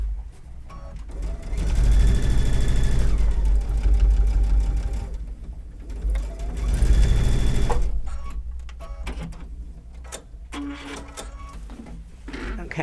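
Sewing machine stitching a Kimberbell garden flag runs in a fast, steady mechanical whir for two bursts, pausing briefly between them, followed by quieter clicks and handling noise.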